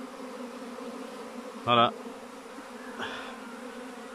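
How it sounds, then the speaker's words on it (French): Honeybees fly past during swarming, their steady buzzing hum filling the air throughout, with a louder close pass, and a brief spoken word partway through. "Je vois que vous y voyez plein d'abeilles qui passent"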